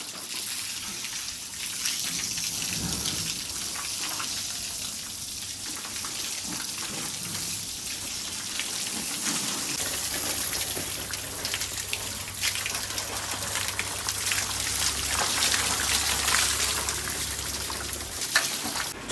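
Water is sprayed onto newly built bathroom walls for curing, a steady hissing rush with patter and splashing against the surface that runs unbroken, with a low hum underneath and no speech.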